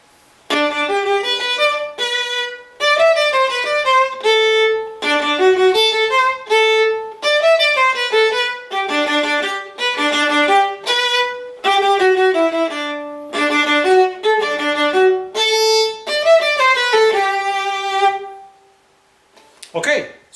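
A viola plays a lilting waltz melody alone, each bar leaning on its first beat, with short breaths between phrases before fading out.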